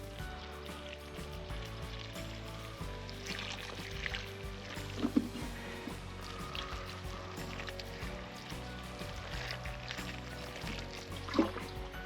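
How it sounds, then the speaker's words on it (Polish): Water poured into a dry, parched furrow in a garden bed after a broad bean crop, a steady soft trickle and gurgle close by with faint background noise and no talk. "no to w rowek od razu woda."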